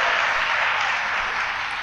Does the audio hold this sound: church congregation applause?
yes